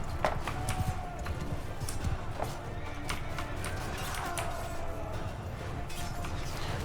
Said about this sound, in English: when you're running around on the horse